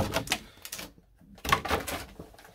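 Cardboard packaging is torn and pulled off a Pokemon TCG battle box in a few close, crackling bursts of rustling and ripping, with a short quiet gap in the middle.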